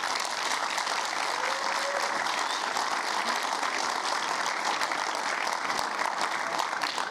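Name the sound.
audience applause at white coat ceremony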